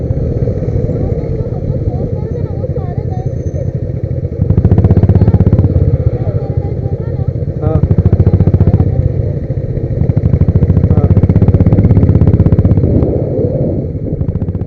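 A motorcycle ride with a steady mid-pitched engine drone and road rumble that swells in a few stretches, while people talk over it throughout.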